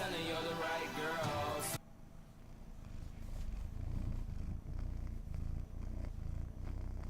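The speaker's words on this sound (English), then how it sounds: "Tell me if you hear kitty purring." A short burst of a bright, harmonic sound opens, then a cat purrs close to the microphone, a low, steady, pulsing rumble that continues on its own.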